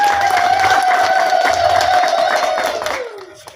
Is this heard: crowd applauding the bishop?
yes